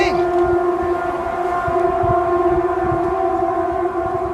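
A recorded civil defense siren wails steadily, its sustained tones holding without pause over a rumbling low background for the whole stretch.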